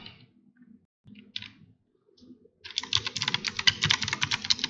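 Close computer keyboard typing of a route print command, beginning with a few scattered keystrokes and then a fast, steady run of clicky key presses.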